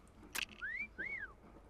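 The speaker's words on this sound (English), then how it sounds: "Someone's whistling at me with my awesome good looks." Two rising-and-falling whistles from a character in the Lego Minifigures Online video game, a wolf-whistle style call following a brief bright burst, fairly quiet and clear.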